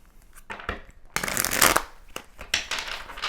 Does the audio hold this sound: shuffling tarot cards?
yes